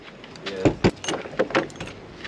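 A bunch of keys jangling up close in a morning departure scene, several bright metallic rattles and clinks in quick irregular bursts, with no speech over them.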